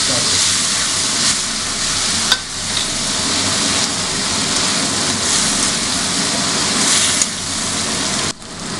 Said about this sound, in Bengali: এবার এর ভেতর আমরা অনিয়ন পেস্ট, জিঞ্জার গার্লিক পেস্টটা দিয়ে দিচ্ছি। দিয়ে ভালো করে জিনিসটাকে ফ্রাই করতে হবে।